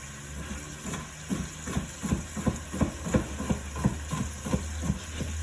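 A kitchen knife chops fresh celery for chow mein in quick, regular cuts, about a dozen sharp knocks on a board. The knocks sit over a low, constant hum and no one speaks.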